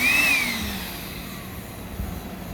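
A Makita 18-volt LXT cordless vacuum with a cyclone separator and a 5 amp-hour battery runs with a steady whirring motor whine and a rushing airflow, moderately loud and close, with no speech.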